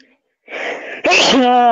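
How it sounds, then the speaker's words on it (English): A sudden, loud, close-up human sneeze: a sharp breathy intake followed by an explosive voiced burst that trails off. "I'm sneezing."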